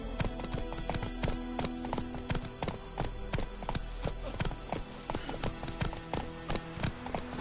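Roach, a horse in The Witcher, gallops in rapid, steady clip-clop hoofbeats that continue throughout, moderately loud and close, with no talking.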